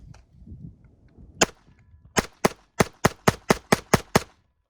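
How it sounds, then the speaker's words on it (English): A Glock 44 .22 pistol fires at a target: one sharp shot, then after a pause a steady string of about nine evenly spaced, crisp cracks that stop abruptly, with faint low background noise before the shooting. "Let's shoot him in the head. Try for a group."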